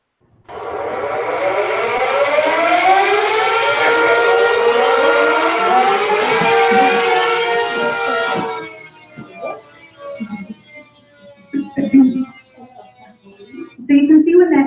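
Crisis alert siren from the CrisisGo app on a device: a loud, continuous rising and wavering electronic wail lasting several seconds, cut off abruptly, followed by a person speaking nearby.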